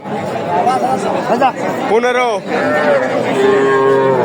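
Cows moo loudly and repeatedly close by, amid the busy chatter of a crowded cattle market trading bulls and heifer calves.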